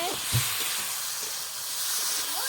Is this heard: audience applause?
no